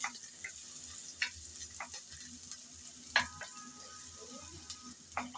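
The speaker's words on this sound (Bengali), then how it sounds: "পেঁয়াজ আর রসুন একটু নেড়ে চেড়ে হালকা করে ভেজে নেব।" Onion and garlic fry lightly in a pan with a steady, close sizzle. Occasional sharp clicks and scrapes come from stirring, and no one speaks.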